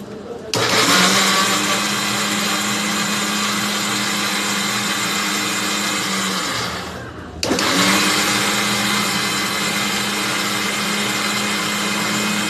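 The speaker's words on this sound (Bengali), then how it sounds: "এই যে আমি এখন ব্লেন্ডারে ব্লেন্ড করে নিব" An electric blender whirs loudly and steadily as it purées tomatoes, stopping briefly in the middle before starting up again at full power.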